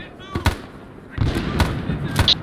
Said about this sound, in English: launch a grenade